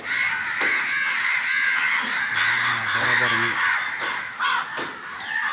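Several crows caw harshly and repeatedly, some close and some farther off, layered over a bright background of chirping birds and outdoor ambience.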